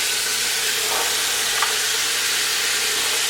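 Chopped carrots and celery sauté in a soup pot, giving a steady, loud, close sizzle and hiss that runs unbroken with no voices.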